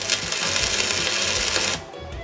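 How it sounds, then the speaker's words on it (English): A stick welder strikes an arc on steel in a shed for a first-ever weld, giving a loud, close, harsh crackling buzz that holds for under two seconds and then cuts off. "Well, that's the first weld ever."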